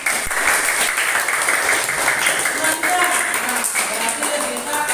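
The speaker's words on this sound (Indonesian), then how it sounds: "Tepuk tangan." A class of students applauds in a classroom lesson, producing lively, close clapping from many hands with voices murmuring underneath.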